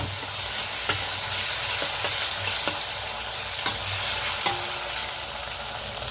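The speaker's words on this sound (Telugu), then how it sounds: "వెల్లుల్లి పేస్ట్ కూడా వేసేసుకొని మొత్తం కలిపేసుకున్నామండి" Vegetables lightly fried with ginger-garlic paste are stirred in a pan for vegetable biryani, a steady sizzle running throughout with several sharp spoon scrapes and taps against the pan, close and fairly loud, no talking.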